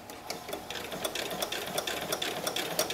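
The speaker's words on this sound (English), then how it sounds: "And now I'm going to continue stitching the top of the forehead." A sewing machine stitches the forehead of an owl pillow, a steady, fast mechanical whirr with rhythmic clicking needle strokes, close by and running continuously on its own.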